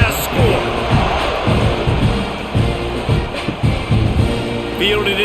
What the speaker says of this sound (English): this crowd is buzzing after that last